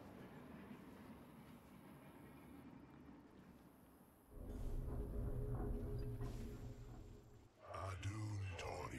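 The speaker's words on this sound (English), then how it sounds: "They've loaded up another train." A train rumbles along in the video game StarCraft 2 with a low, heavy rolling sound that grows louder partway through, while a voice talks over the game.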